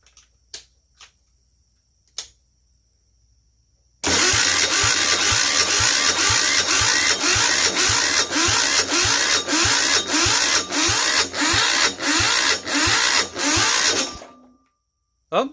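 A Yanmar L100 diesel generator engine cranks hard on a battery pack for about ten seconds, a loud, fast, steady mechanical chugging, preceded by a few sharp clicks and ending abruptly.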